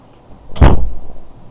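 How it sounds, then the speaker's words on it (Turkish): A door closing indoors, a single solid thud heard close and loud, with nobody talking. "Bir dakika kapıyı kapatayım."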